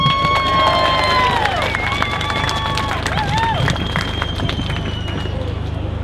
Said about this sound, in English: Give a round of applause to John Rees.